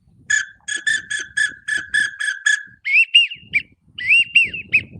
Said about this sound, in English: You can't go wrong with a whistle, man. It's easy to blow.